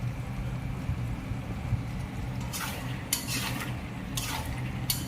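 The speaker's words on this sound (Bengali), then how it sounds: "আর একটু কষিয়ে নিতে হবে।" A spice mixture being stirred and sautéed in a pan, with a low steady cooking hiss and scraping stir strokes coming in bursts during the second half.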